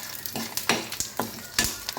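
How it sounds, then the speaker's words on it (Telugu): Green and dried red chillies fry in a pan alongside coriander and cumin seeds for a ridge gourd chutney. The sizzle is steady and crackling, with several sharp stirring scrapes in quick succession and no talk. "ఒక 5-6 ఎండుమిర్చి వేసుకొని ఫ్రై చేసుకోవాలి."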